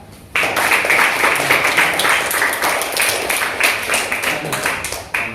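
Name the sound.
applause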